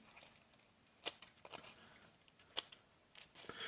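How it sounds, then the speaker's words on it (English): Small scissors on a Nextool multitool snip a few times, giving two or three sharp, close clicks spread over a quiet few seconds. "we got a good old pair of scissors right here. So let's go ahead and test those out really quick"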